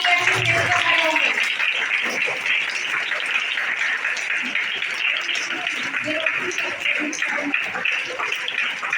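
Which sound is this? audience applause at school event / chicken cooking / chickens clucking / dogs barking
audience applause at school event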